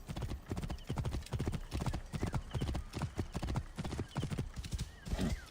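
A horse's hooves clip-clop steadily and close by in an even, repeated rhythm, with a short whinny near the end.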